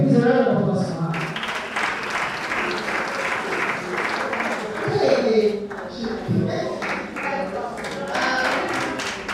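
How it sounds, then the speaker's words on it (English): A round of applause for Dr. Wada Omishani at a workshop on human-centered AI and gender equity, with clapping and scattered taps and thuds mixed with talking voices throughout. "Please, a round of applause for her."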